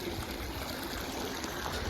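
Water pours steadily from a borewell onto a field, a continuous rushing, splashing wash that fills the air at even strength.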